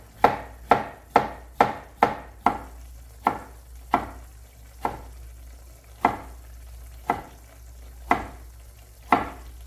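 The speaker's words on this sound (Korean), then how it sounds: "노란색 파프리카도 썰어 놓으시고" A knife chops a yellow bell pepper on a cutting board for japchae in a string of crisp, evenly spaced thuds. They come quickly at first, then slow to about one every second, close and clear with no talk.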